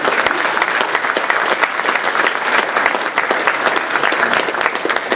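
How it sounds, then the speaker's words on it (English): Audience at a city council candidates forum applauding the candidates, a dense, steady round of clapping that carries on throughout without any talk. "Ladies and gentlemen, a round of applause for our candidates."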